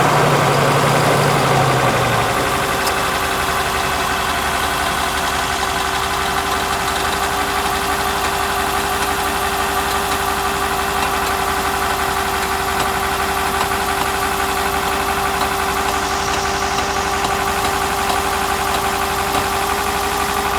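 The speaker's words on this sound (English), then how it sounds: "now I need you to go and start the coach" A Ford F550-based Entegra Esteem XL motorhome engine shifts into a loud, steady idle after a couple of seconds, a constant close rumble with a sustained hum and no voices.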